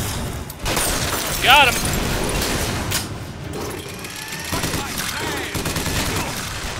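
Gunfire in the Bioshock Infinite shooter rattles in a dense, sustained barrage with clanking mechanical noises and a brief ringing burst, while someone shouts briefly over the shooting.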